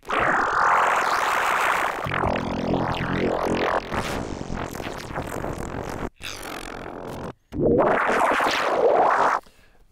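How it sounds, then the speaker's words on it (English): An EDM bass synth built from a modulated wavetable in Ableton Live plays a loud, gritty, shifting line with sweeping tone changes, short gaps and abrupt cuts between phrases. "start using wavetable within Live and applying modulation to the wavetable and to the effects at the same time"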